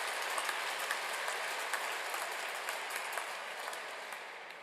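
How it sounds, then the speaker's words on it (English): Applause from a graduation-day audience in a hall honours the Rotary host counselors, with many hands clapping in a steady, even wash that fades slightly toward the end. "So give a big applause to the Rotary host counselors."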